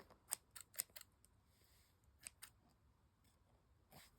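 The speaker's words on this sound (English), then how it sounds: "Okay, I hate scissors that don't actually cut." Scissors snipping leather thread, a few faint, crisp clicks in short bursts at close range, then quiet with a last light snip.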